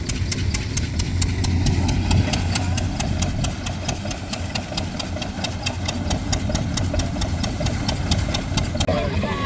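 Farm tractor in a village field running with an opener implement attached, a steady engine drone with rapid, regular clattering ticks throughout and a brief rustle at the end.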